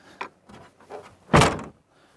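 A single solid thunk of a 2005 Subaru Legacy tailgate swinging shut, preceded by a few faint clicks and rustles of the latch mechanism, close and fairly loud.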